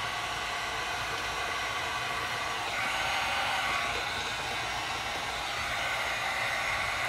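A heat gun blows steadily while warming window tint on a 2012-2017 Ford Focus mirror marker, giving a constant hissing, fan-like whoosh at even volume throughout.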